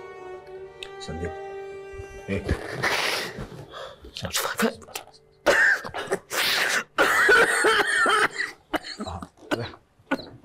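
A man coughs repeatedly in harsh, wet bursts with throat clearing between them, loud and close, after a few seconds of soft background music.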